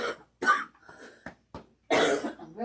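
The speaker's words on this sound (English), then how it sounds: "cough for a second" A few sharp coughs close by, some spaced apart, ending in a louder burst of harsh coughing.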